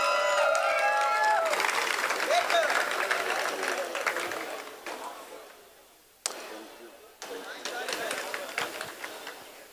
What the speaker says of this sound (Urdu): آپ سب کی بھرپور تالیوں میں YBQ یوسف بشیر قریشی.